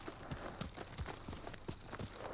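Horse hooves clip-clopping in the video game Ghost of Tsushima, a quiet run of evenly spaced soft thuds about three per second, faint and without talk.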